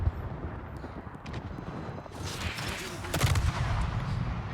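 Naval guns fire in the World of Warships video game, with rumbling shots and clustered volleys that grow heavier and louder midway through.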